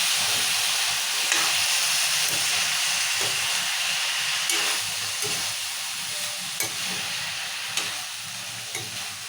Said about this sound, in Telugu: టమాటా వేసి కలుపుకుందాం